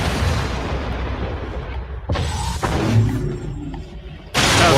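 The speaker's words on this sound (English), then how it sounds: "Shotgun." A shotgun fires in a video game: a few sharp, heavy booms cut through a noisy in-game background, with a loud blast near the start and another bursting in at the end.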